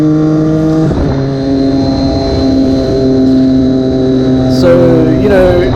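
Triumph Daytona 675R sport motorcycle from 2016, silencer removed and fitted with an SC Project exhaust, idles loud and close with a steady droning note and brief throttle blips near the end.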